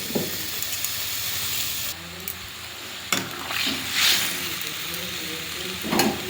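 Cumin and coriander paste hits hot oil in a pan for a Bengali fish curry, giving a soft continuous sizzle with stirring scrapes and a few brief louder hisses.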